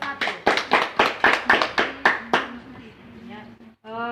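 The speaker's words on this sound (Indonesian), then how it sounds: "Tepuk tangan untuk kelompok 1" Rhythmic clapping by a classroom of students applauding a group during a teaching session, about ten sharp, evenly spaced claps, then it stops and a voice speaks.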